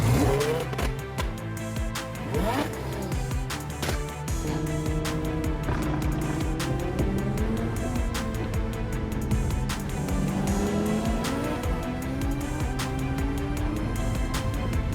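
A modified twin-turbo Audi R8 engine revs hard and stays close and loud throughout, its pitch sweeping up and down through repeated gear changes.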